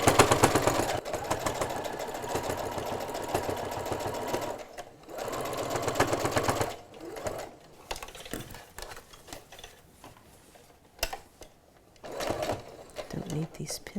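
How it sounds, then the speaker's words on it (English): Sewing machine running a double row of stitching along the side of a fabric surgical mask, a loud steady whir for several seconds, then stopping, with a voice talking over the quieter end. "I'm just doing a double row of stitching on either side."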